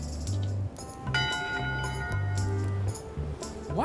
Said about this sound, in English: Go ring the bell yourself.